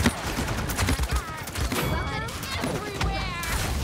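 Rapid gunfire and ability effects from the Paladins video game, a dense continuous barrage of shots and impacts running under excited talk from a player throughout.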